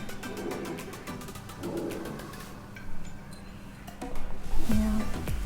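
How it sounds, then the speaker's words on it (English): Birds call outside an apartment balcony overlooking a river, repeated chirps and coos mixed with ambient outdoor noise, moderately close. "Can you see the birds? They are beautiful."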